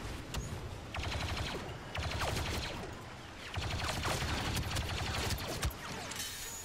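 Blaster fire from a Star Wars Battlefront 2 firefight crackles in repeated rapid volleys, several guns shooting in bursts of a second or so with brief dips between, moderately loud and without talk.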